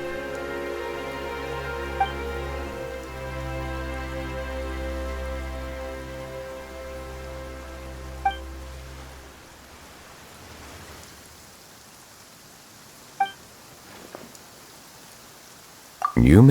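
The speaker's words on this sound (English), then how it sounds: "Why is it raining all of a sudden?" Rain falls steadily in the video game Genshin Impact, a soft broad wash over a low droning music bed that fades out, with a few faint chimes and a brief rustle at the end.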